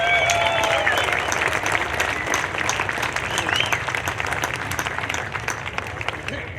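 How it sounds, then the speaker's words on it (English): A rally crowd at a Second Amendment event in Phoenix, Arizona bursts into sustained applause, dense clapping holding loud and steady before easing slightly. "Give them a good round of applause."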